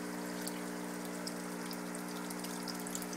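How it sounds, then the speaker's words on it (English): Aerated tanks in an aquaponics test table with a biofilter give a steady, close wash of bubbling water, with a low constant pump hum beneath and faint drip-like pops throughout. "You can see each one of these tanks are aerating."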